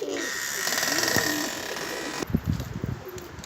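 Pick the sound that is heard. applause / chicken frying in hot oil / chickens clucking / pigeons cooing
pigeons cooing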